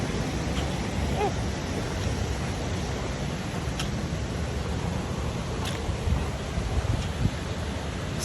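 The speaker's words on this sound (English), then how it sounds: "Sound of that waterfall." A small waterfall produces a constant rushing wash of falling water, fairly near and even in level, with only a few faint ticks and no talking.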